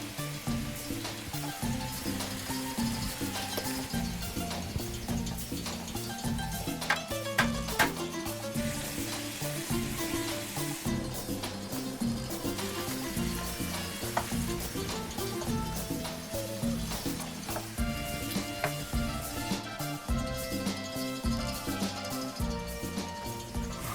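Chicken and beans fry in a pan in a Spanish weeknight dish, giving a steady, dense sizzle and crackle that runs evenly throughout with occasional sharper pops.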